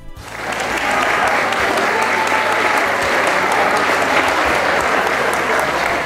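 Loud, sustained applause from a crowd at a teachers' day ceremony honoring long-serving staff, dense and continuous for about six seconds after a brief start.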